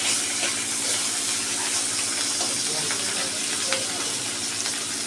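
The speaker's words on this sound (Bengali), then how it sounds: "মাছ ভাজা করতে দিয়েছি," Fish fries in a pan with a steady, close crackling sizzle that never lets up. Faint kitchen clatter sits underneath the frying.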